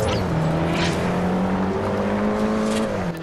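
Car engine drones steadily through gears while driving across a dirt field in Forza Horizon set in Colorado, pitch rising and falling continuously, loud and close with tire and gravel noise, no talking.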